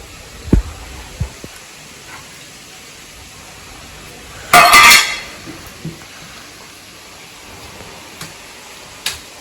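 Momo filling being stirred with pepper powder in a bowl: a few sparse clinks and taps, then a short, louder scraping burst midway, and a faint tap near the end against a quiet room.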